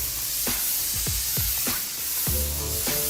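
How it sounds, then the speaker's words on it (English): A paint spray gun sprays a car in a steady hiss, with several short bursts of sharper spray layered on top in a loose rhythm, close by. "you pull it back more, then there's the spray, there's the paint that comes out."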